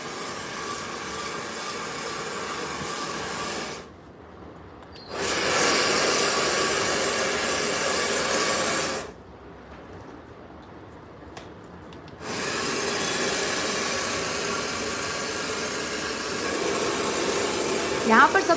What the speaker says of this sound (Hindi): यहाँ पर सबसे हम पहले कर रहे हैं स्ट्रेट ड्रायर